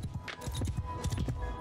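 Horse hooves clop in the video game Mount and Blade Bannerlord, a quick, fairly quiet run of rhythmic galloping thuds lasting under two seconds.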